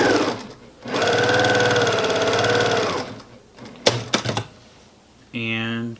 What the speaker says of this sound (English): So I'm going to come over here to my machine and just run a 1/4 inch seam.